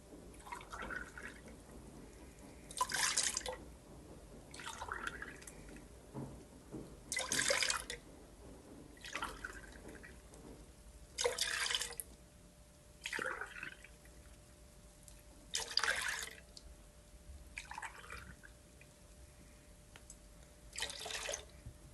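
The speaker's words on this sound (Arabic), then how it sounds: "بدنا ندير 6 كاسات حليب" Milk is poured from a cup into a pot, six separate splashy pours at a regular pace, close and clear, with quiet pauses between them.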